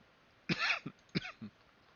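Two quick coughs, each a sharp burst followed by a softer catch, close and clear against a quiet background.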